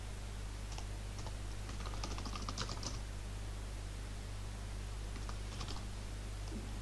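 Faint bursts of computer keyboard typing while coding an API endpoint, soft clustered keystrokes around two and again near five seconds over a steady low electrical hum, no voices.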